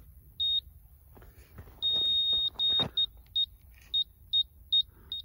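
Sharp electronic beeps from a laser level receiver as it reaches level, a long tone followed by a string of short, evenly spaced bleeps, clear and close over quiet outdoor background.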